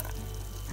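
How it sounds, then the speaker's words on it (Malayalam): Water from rinsing a mixer jar is poured into a pot of moru curry, a buttermilk curry with cooked ash gourd, yam and raw banana, giving a faint, brief watery hiss and splash with no talking. "നമുക്കിതിലേക്ക് മിക്സി കഴുകിയ വെള്ളം കൂടി ചേർക്കാം."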